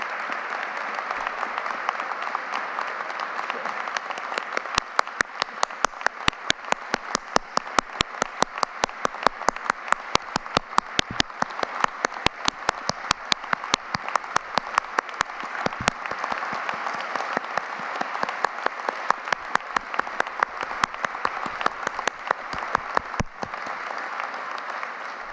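Big sustained applause from a large audience at a university presidential investiture ceremony as President Andrew Rich steps forward, dense and steady for the whole stretch with sharp individual claps standing out near the front.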